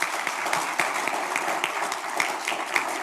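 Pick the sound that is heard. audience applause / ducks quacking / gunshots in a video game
audience applause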